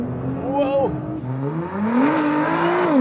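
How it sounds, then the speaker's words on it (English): Nissan GT-R launching hard from a standstill, a loud close engine note climbing in pitch through quick gear changes, heard from inside the car with a faint tire whir. "GTR launch."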